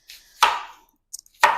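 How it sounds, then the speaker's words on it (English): A kitchen knife chops onions on a cutting board in two loud, close strokes about a second apart, each a sharp crunch followed by a brief scrape, with a small tap between them and no talking. "now we're gonna chop the onions"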